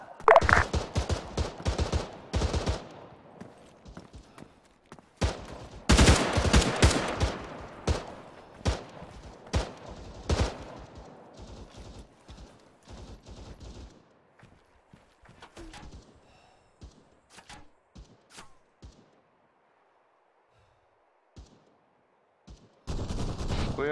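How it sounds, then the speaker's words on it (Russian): Gunfire in the military shooter game Arma 3, with bursts of rapid shots clustered early, then scattered single cracks and short volleys fading into quieter, distant pops, and a final loud burst at the end. "Случайный выстрел."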